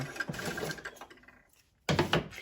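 A Brother LX2375 sewing machine stitches in short bursts, running, pausing briefly into near silence, then starting again loud and close.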